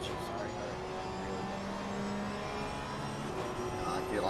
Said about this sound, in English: I do like the sound of the car in general.